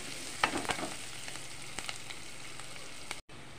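Green chillies and ginger are stir-fried in a pan for butter chicken, giving a steady low sizzle with a few scraping stirs and clicks near the start and a brief dropout near the end.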